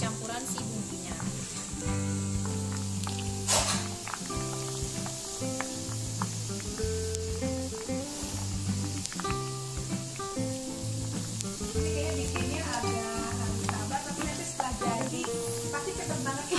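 Cassava slices for spicy chips sizzle in hot oil, a constant close crackling hiss under a voice with a few clinks of a utensil.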